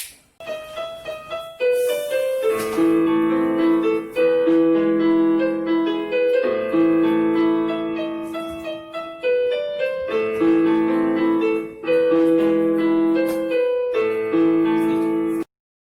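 A solo piano plays Beethoven's Für Elise, a flowing classical melody over steady broken-chord accompaniment, bright and close, with no voices.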